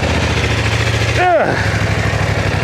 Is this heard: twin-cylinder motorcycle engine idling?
yes